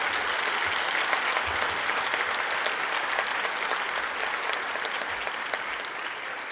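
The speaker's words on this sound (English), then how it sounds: "Please join me in applauding these exceptional students." An audience at a National Honor Society induction ceremony applauds, a dense and steady round of clapping from a large crowd that holds evenly throughout.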